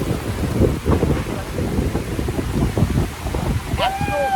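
Strong seashore wind roars and buffets the microphone at a Port Dickson beach under heavy cloud before rain, with waves washing underneath and a voice speaking over the gusts.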